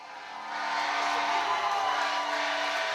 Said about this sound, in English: You hear that big cheer for Rodriguez, H-Town's own